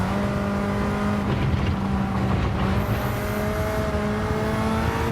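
A Mitsubishi Lancer Evo X in Gran Turismo 7 revs hard on track, its engine a sustained, loud, rising drone with steady harmonics and a brief tire squeal, with no talking.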